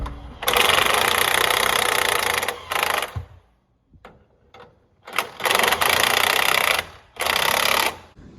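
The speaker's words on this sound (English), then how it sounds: "I pretty much tightened it with the impact" An impact wrench drives leaf spring bolts on a 1999-2004 Ford Super Duty during a leveling kit install, in several loud, close bursts of rapid hammering separated by pauses with faint clanks.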